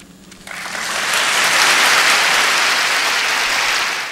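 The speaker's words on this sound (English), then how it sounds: "we could see her speech was met with applause" An Oscars audience applauds after an acceptance speech: a loud wash of clapping swells in after a half second and holds steady for about three seconds before easing off slightly.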